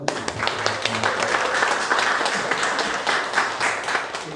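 Audience at a youth political academy event of a party's provincial chapter in Jeju gives a steady round of applause, a dense continuous patter of many hands clapping, with a few faint voices mixed in.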